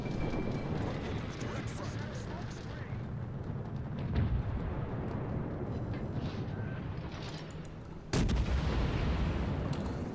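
Warship guns fire armour-piercing shells in World of Warships, a continuous rumbling barrage with a heavy boom at about 4 seconds and a sharp, loud blast near 8 seconds, under game noise.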